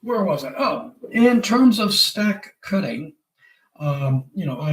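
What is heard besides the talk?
None of the usual background noises is heard.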